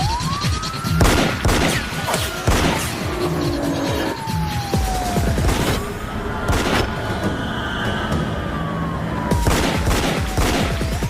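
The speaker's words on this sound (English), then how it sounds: "What do you think I mean? They're shooting at us." Rapid bursts of gunfire fired at a car, with police sirens wailing and rising and falling, engine noise and loud shot clusters repeating throughout, close and dense, with no talking.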